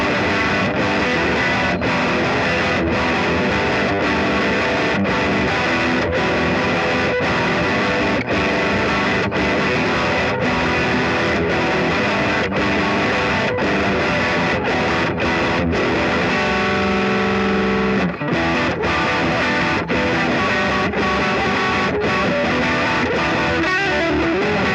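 Electric guitar through an Effects Bakery Bagel Overdrive pedal set for distortion, playing steady dense crunchy chords throughout at loud, constant level with a brief break near the end.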